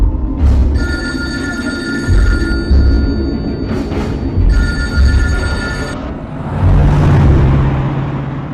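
An electronic telephone ring repeats in regular bursts of about a second, loud and close over low rumbling background noise.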